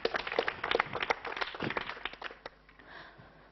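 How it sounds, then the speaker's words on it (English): Students clap in a classroom, a burst of scattered handclaps that is fairly loud at first and then thins out and fades toward the end. "Big round of applause for Salman."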